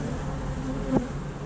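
Honeybees buzzing steadily at close range during an inspection of a small nuc hive, a continuous low drone with a brief louder swell as a bee passes near.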